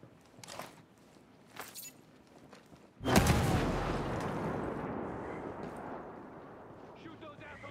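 Gunfire in Ghost Recon Breakpoint: faint, sharp shots and shouted voices, then a sudden loud blast that rolls into a long, rumbling decay.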